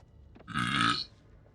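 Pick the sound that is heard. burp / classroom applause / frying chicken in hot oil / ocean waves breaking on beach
burp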